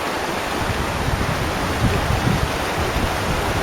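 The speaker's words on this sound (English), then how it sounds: "This is the Vilcabamba River." The Vilcabamba River rushes past as a steady, loud broadband roar of flowing water, constant and close throughout with no voices.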